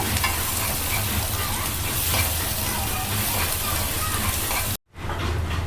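Tomatoes frying in oil in a pan for a simple mutton curry, a steady loud sizzle with stirring scrapes that runs continuously, cuts out briefly near the end, then resumes.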